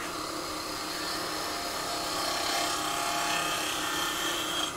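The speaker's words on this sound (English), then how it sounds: "I'm just really lightly brushing the tool in there." A 3/8 spindle gouge lightly brushing a wooden box on a lathe, making a faint, steady hiss and rasp of wood being shaved as the piece spins, with no talking.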